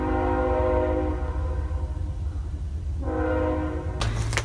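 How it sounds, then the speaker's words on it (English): A train rumbles past close by and sounds its horn in two long, loud blasts separated by a pause, the rolling clatter continuing underneath and a sharp noise burst at the end. "Trains and cars."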